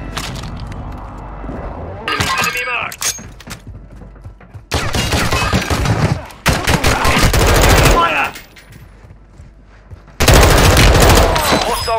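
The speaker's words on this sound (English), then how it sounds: "Taking effective fire!" Gunfire in the video game Call of Duty Warzone 2.0 comes in several loud bursts of rapid automatic fire separated by quieter gaps, with sharp cracks and clattering mechanisms mixed in.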